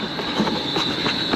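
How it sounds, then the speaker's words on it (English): A train pulls into a station with a steady rumbling roar and a faint high wheel squeal running throughout, close and loud, with no one speaking. "I'm catching this train, I don't care what happens!"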